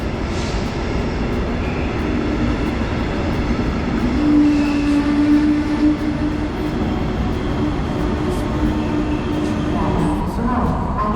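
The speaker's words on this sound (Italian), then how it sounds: "Vedete che passa il treno." A train rumbles steadily through a station in Germany, continuous loud rolling noise with a brief high squeal partway through and faint voices beneath.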